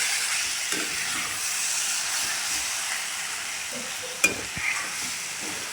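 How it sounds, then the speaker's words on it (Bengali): Pointed gourd (potol) fries in mustard-poppy paste without added water, a constant close sizzle and hiss broken by spatula stirs and one sharp knock against the pan. "এর মধ্যে আর জল দেবো না, এটা দিয়ে ভাজা ভাজা করে নেব।"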